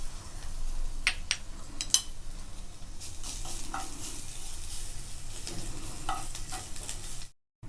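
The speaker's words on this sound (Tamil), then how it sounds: "ஒரு 5-6 பூண்டு நச்சு வச்சுருக்கேன், அதை இந்த எண்ணெயில் வறுத்து எடுத்துக்கலாம்." Five or six crushed garlic cloves frying in a little oil, a soft steady sizzle at close range broken by sharp scraping taps of a spoon stirring against the pan.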